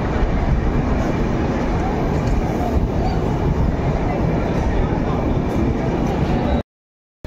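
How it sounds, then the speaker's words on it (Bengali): A passenger train pulls into Etawah Junction station on a journey toward Rajasthan, producing a loud, continuous rumble of wheels and carriages that cuts off abruptly into silence near the end. "দেখতে পাচ্ছেন ট্রেন এসে পৌঁছালো ইটাওয়া জাংশন।"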